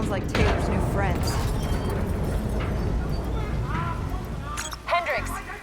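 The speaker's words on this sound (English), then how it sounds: "we have multiple explosions across the facility" Explosions boom across a facility in the Call of Duty Black Ops 3 campaign, heavy blasts and debris rumbling under tense voiced dialogue, with a few sharper cracks near the end.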